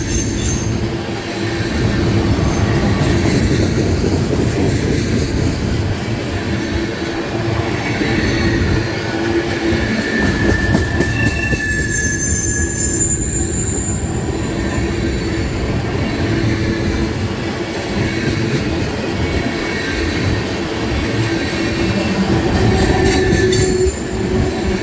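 A CSX ethanol freight train hauled by three locomotives, including double YN2s and a Family Lines heritage unit, rolls past close and loud. A steady heavy rumble of wagons and wheels runs throughout with occasional wheel squeal, and no one speaks.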